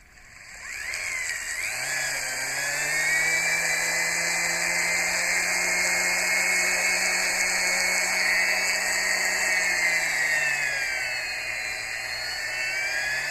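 A power sander with a finer grit trims a knife handle pin flush and square, giving a steady, high-pitched motor whine that spins up in the first second and holds evenly close by.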